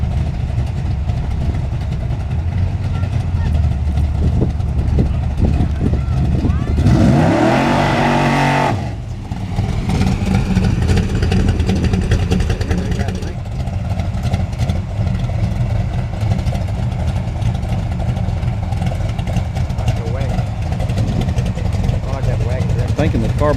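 An old-school drag race car with an iron-head motor roars steadily at Newport Raceway, a loud continuous engine rumble with a brief revving surge partway through, while people talk over it.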